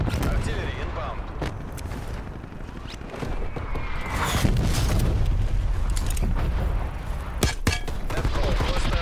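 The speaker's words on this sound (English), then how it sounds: "Artillery inbound." Artillery barrage in a video game: dense, continuous rolling booms and gunfire-like cracks fill the whole stretch, growing louder about midway, with a few sharp blasts near the end and faint voice chatter underneath.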